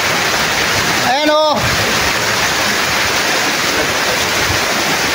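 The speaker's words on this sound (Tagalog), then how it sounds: "lakas na ulan." Heavy rain pouring down outdoors by a river, a dense, loud, steady hiss throughout, briefly overlaid by a short spoken phrase.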